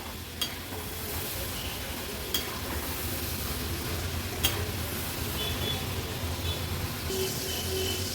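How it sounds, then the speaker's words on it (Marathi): Potato sticks fry in hot oil over a medium flame, giving a steady dense sizzle that fills the scene, with occasional soft clicks and scrapes as they are stirred, close and continuous. "आपण ह्या बटाट्याच्या स्टिक्स मीडियम फ्लेमवर तळत होतो"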